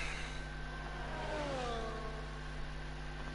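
A scarlet red Ferrari Formula 1 car in F1 24 at the Azerbaijan Grand Prix, its engine whining and revving with a rising then falling pitch sweep, heard steadily at moderate distance without talk.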